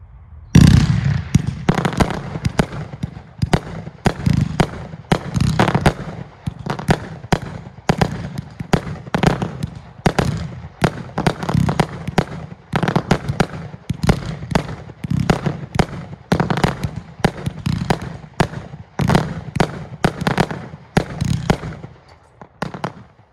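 A 36-shot red, white and blue peony fireworks cake firing outdoors, a rapid string of loud sharp launch thumps and bursts in an uneven rhythm, continuing for about twenty seconds.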